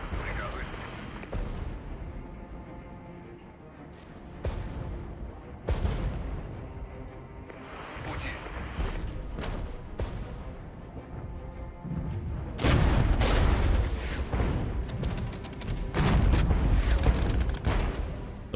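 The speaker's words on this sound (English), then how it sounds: "The mortar fire coming in there should help us out quite a bit." Incoming mortar fire in the tank warfare video game Regiments, heavy booms and rumbling impacts rising in intensity toward the end, with someone talking over the barrage.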